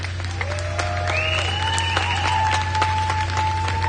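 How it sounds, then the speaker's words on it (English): Crowd applause at an outdoor rally in Washington, D.C., a steady wash of clapping and cheering with whistles or shouted tones rising above it and a constant low hum underneath. "Give another round of applause for Gabriel."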